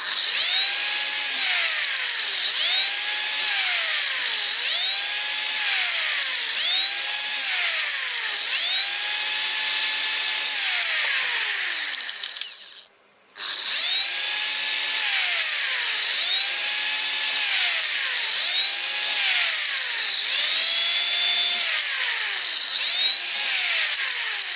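A drill with a hole-saw cutter boring a hole for a light switch, a loud close whine that rises and falls in repeated strokes, briefly stopping once before resuming.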